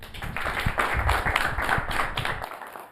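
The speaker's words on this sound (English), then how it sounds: "Let us clap for Hilda." An audience claps for a student speaker at a mind training institute gathering, a steady wash of many hands that fills the room for a couple of seconds before cutting off abruptly near the end.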